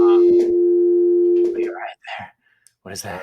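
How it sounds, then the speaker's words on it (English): A steady telephone tone, like a busy or dial signal from a bumped phone, sounds loud and unbroken for about a second and a half before people start talking over the fading end. "Sorry. That was my phone."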